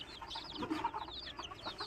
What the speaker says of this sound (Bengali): কিছু দেশি মুরগি বাচ্চা বের হয়েছিল সেগুলো আপনাদেরকে দেখাচ্ছি